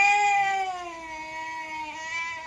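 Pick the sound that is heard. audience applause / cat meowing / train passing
cat meowing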